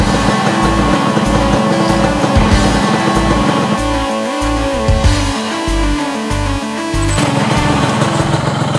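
A repaired Yamaha RX King two-stroke motorcycle engine runs on a test ride with a loud, raspy, buzzing exhaust note. The revs rise and fall through several gear changes, close up, with no talk.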